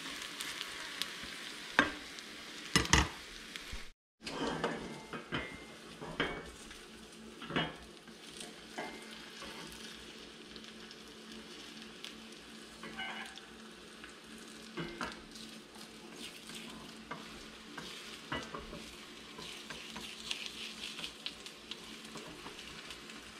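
Egg mixture cooks in a GreenPan 7-inch frypan, a faint continuous sizzle broken by occasional scrapes and taps of a utensil against the pan.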